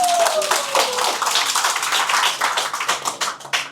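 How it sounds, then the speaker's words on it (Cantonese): Audience applause for a stand-up comedian at a small comedy show, a dense burst of close hand clapping that holds steady and then thins into scattered claps toward the end. "俾啲掌聲佢"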